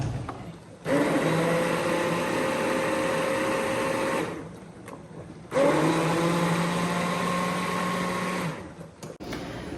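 An immersion blender whirs through a pot of home-canned tomatoes in two long, loud bursts separated by a brief pause, steady and close with no talking.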